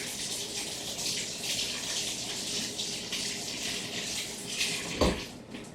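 A cooking pot rinsed under a running kitchen tap: steady splashing water close by, with a hollow knock of the pot near the end.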